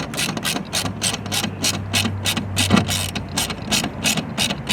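Ratchet wrench tightening bracket bolts during an aftermarket install on a 2022-2025 Audi Q5, a steady run of rapid clicking pawl strokes up close, with no talk.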